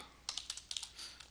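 Fast, quiet keystrokes on a computer keyboard as a telnet command is typed, a quick burst of about a dozen close, crisp clicks with no voice over them.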